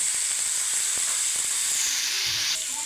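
Meat sizzling in a hot wok, a loud continuous hiss with small crackles throughout and a few faint knocks, no voices.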